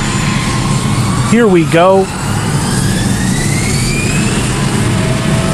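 Jet engines of a CRJ-700 regional airliner roar steadily at full takeoff power, a loud continuous rumble heard from inside the cabin, with someone briefly speaking over it.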